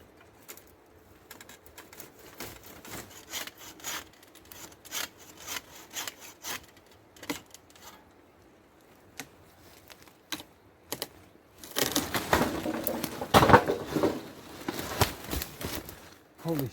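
A buck saw cuts into wood from underneath on a shelter build in 28°C heat, irregular rasping strokes at first, then a louder, denser burst of sawing near the end, with birds faintly in the background.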